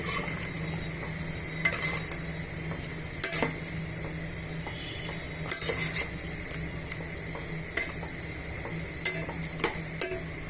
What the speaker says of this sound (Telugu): మసాలాలోకి వేసిన తర్వాత ఇదంతా బాగా మిక్స్ చేసుకుందామండి